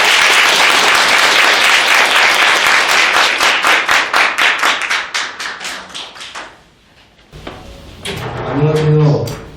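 Audience applause at a presentation event for single parents, loud sustained clapping that thins out and fades after about seven seconds, followed by a brief low voice.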